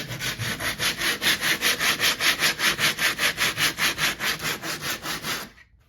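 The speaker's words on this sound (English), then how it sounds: "So now some extra filing." A patched hole in a wall is filed by hand in quick, even back-and-forth rasping strokes, about four per second, close and loud, then stops abruptly.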